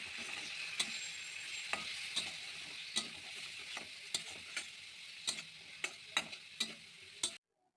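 Ground spices loosened with a little water fry and sizzle in a pan for ghugni with egg, a steady soft hiss broken by a dozen sharp spoon taps and scrapes against the pan, ending abruptly.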